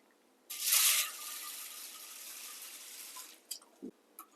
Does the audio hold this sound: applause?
no